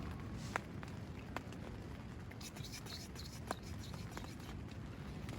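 Steady soft patter of rain on a tent fabric, continuous and close, with occasional sharper drips tapping through the hiss.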